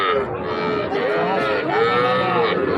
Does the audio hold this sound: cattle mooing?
yes